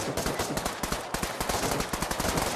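Rapid automatic gunfire from Pavlov VR on Meta Quest 2 rattles in a fast, steady stream of close, loud shots with no talking.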